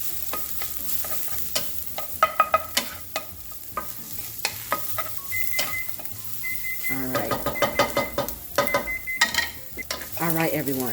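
A spoon stirs stuffed pepper filling in a hot sizzling pan, with repeated clinks and scrapes against the pan over a soft, steady fry, and brief talk between the strokes.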